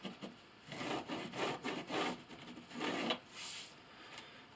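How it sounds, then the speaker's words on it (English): A friction pen draws a line corner to corner across quilted fabric for a glasses sleeve, giving a series of close, soft scratchy rubbing strokes in a steady rhythm, alone without talk. "I'm just going to draw a line from corner to corner with my friction pin."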